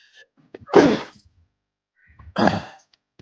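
Two separate sneezes, each a short loud burst, about a second and a half apart in a quiet room.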